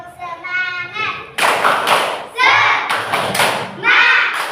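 Schoolchildren in a fourth-grade primary classroom clap together in loud, rhythmic bursts of a group cheer clap, with a voice briefly heard at the start between the volleys.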